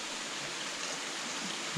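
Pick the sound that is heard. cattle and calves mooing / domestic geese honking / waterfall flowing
waterfall flowing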